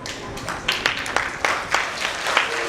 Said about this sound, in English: A round of applause for Mr. Jena.